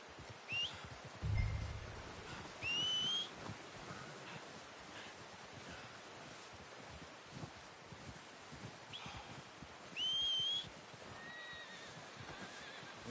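In Red Dead Redemption 2, a horse whinnies three times, short and fairly faint over an outdoor ambience of rustling, with a soft thud early on.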